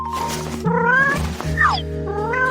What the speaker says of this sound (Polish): Teraz mogę cię wypuścić, kotku.